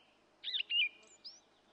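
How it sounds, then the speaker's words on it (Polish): Birds singing in a spring park or meadow, a few short, clear chirping phrases close by, separated by brief pauses over quiet background. "Pięknie śpiewające ptaki, żerujące na trawnikach,"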